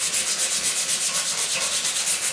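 Hand-scuffing a new metal part with 80 grit sandpaper: steady back-and-forth rasping strokes in a quick, even rhythm, close and moderately loud, with no talk.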